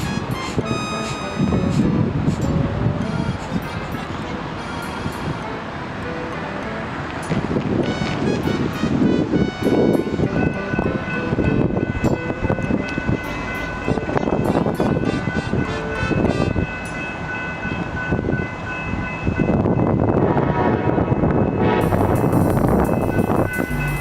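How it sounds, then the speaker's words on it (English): An Amtrak Cascades passenger train led by an SC-44 locomotive rolls into Portland Union Station, a loud, steady rumble with tonal whines and engine drone that holds for the whole stretch. "here's an original SC-44 leading an Amtrak Cascades train into Portland"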